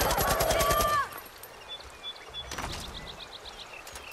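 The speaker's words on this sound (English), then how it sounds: "They keep trying. I keep shooting them down." Rapid bursts of gunfire from a Far Cry 5 firefight in infamous mode, loud and dense for about a second, then dropping to scattered faint in-game sounds and background ambience.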